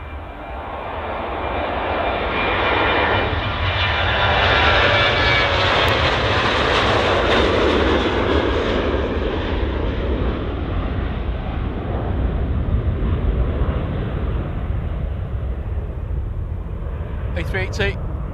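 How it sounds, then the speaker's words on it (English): A Ryanair Boeing 737-800 departs Manchester Airport's runway 23 left, its jet engines a broad, steady roar that swells and holds loud throughout, heard from the field edge with a brief rattle near the end. "Next departure, guess what? It's a Ryanair. Guess where it's going? Milan. 737-800, just about to depart from 23 left."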